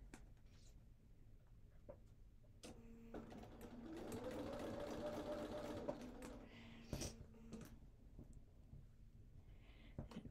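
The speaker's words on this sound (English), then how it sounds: "And now I'm going to sew across there." A sewing machine stitches across quilt fabric for Cathedral Windows blocks, a quiet, steady whirring run of a few seconds broken by short pauses and faint handling clicks in a hushed room.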